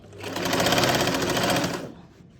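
Sewing machine stitching a salwar, a rapid mechanical whir of needle strokes that swells over about two seconds and then winds down, heard close and alone.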